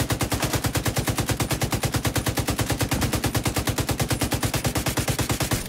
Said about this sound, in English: Lay down the covering fire.